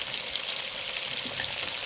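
Steady, dense sizzling of onion and green chili frying in hot oil, a continuous crackle close by with no talking.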